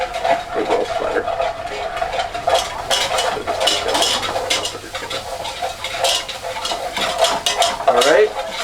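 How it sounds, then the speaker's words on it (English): Cubes of unsalted butter hitting a hot pan and spattering loudly, a close, busy crackle and sizzle with utensil clinks and stirring scrapes throughout. "we're gonna add our cubed butter"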